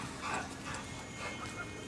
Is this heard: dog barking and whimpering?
yes